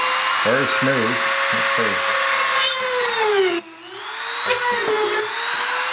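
A Depstech DM200A rotary tool runs at full high speed, about 40,000 RPM, drilling through 3/4 inch plywood: a steady high whine that dips in pitch as the bit loads up, heard up close, with people talking over it at the start.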